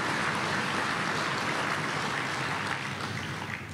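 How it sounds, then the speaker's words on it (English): Sustained applause from an audience fills an auditorium at a volunteer awards ceremony, dense and even throughout, fading slightly at the end. "Let's give a round of applause for their great work and renditions."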